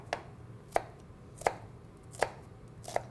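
A knife slices vertically through a shallot on a cutting board, giving five crisp, evenly spaced chops roughly every 0.7 seconds, close and moderately loud over a quiet background with no voices.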